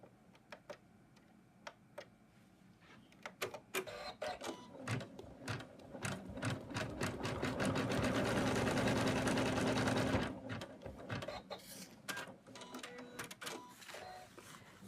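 An embroidery machine stitches an in-the-hoop snowman stocking, starting with scattered ticks that build into a dense, rapid, steady chatter and then thin out again to sparse clicks, heard fairly quietly.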